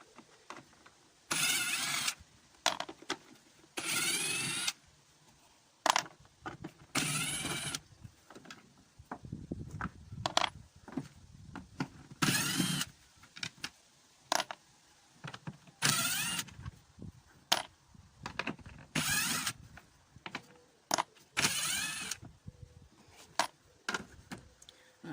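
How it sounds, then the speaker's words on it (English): An impact wrench loosens spark plugs on a Ford Fiesta in a run of short, loud mechanical bursts separated by quieter gaps and the clink of handling. "Now I'm going to cheat a bit because I've got an impact wrench."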